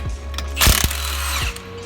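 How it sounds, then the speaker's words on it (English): An impact gun tightens a wheel nut in an auto shop, giving a loud, close burst of rapid hammering with a brief hiss, under a steady mechanical hum. "So I tightened it one rotation around and then that much with my impact gun"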